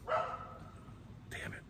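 A neighbor's dog barks outdoors behind a back deck, a couple of short, fairly distant barks at the start and again near the end, faint under quiet evening ambience.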